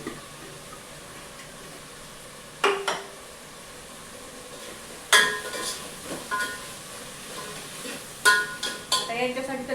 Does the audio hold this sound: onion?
yes